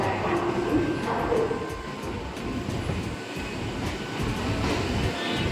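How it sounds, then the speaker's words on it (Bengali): A train arriving at platform three at Howrah station rumbles steadily with dense low mechanical roar and faint rhythmic clatter, close and continuous, with a voice murmuring faintly underneath. "হাওড়া তিন নম্বর প্ল্যাটফর্মে ঢুকলো আমাদের ট্রেন"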